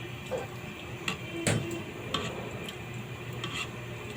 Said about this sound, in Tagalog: halo-haluin po natin para hindi po mamuo ang gata